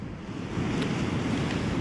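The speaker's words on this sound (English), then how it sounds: "It's really, really windy." Strong wind buffets the microphone as a steady roar, with surf washing and breaking on a beach below sea stacks on the Isle of Man coast, loud and continuous with no voices.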